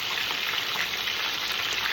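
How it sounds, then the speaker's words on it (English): Peppers fry in a pan during Jamaican Sunday dinner cooking, giving a steady, even sizzle and crackle up close, with no voices. "They're frying up right now."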